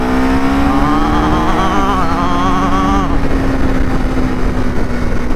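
A 2025 KTM 390 Adventure motorcycle's engine drones loud and close as it rides onto a highway, pitch climbing through the revs with a gear shift partway through, and wind rush throughout.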